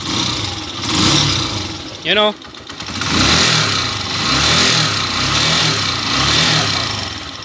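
Kawasaki TMX motorcycle with a replaced block, connecting rod and bearing, its hot engine idling and revving with a rough rattling clatter, rising and falling under close conversation, with a brief sharp whine midway.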